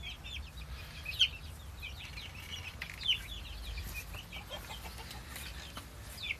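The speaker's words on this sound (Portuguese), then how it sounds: "A liberdade dos pintinhos, série rápida." Chicks and hens on a small rural farm cluck and peep steadily after being freed from their coop, a soft continuous chatter with a couple of sharper calls standing out, heard at moderate distance with no talking.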